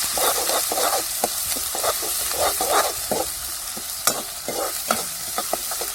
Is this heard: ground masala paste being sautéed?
yes